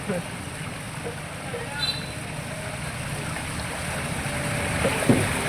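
Floodwater on a Kolkata main road after an hour of heavy rain, a steady broad wash of moving water and passing traffic with splashing, continuous and fairly close, with a voice talking over it.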